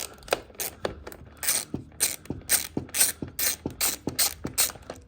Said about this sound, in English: Let's go ahead and bust that nut.